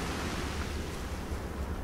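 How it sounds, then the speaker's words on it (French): Ocean waves with a light breeze form a soft, continuous hiss of surf, faint and even, with no voices. "Le bruit des vagues se mêle à celui de la légère brise qui vous caresse le visage."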